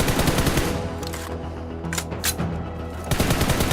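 Automatic gunfire sounds on a BGMI/PUBG Mobile training ground, a loud, close, rapid machine-gun stream that breaks briefly in the middle and resumes near the end.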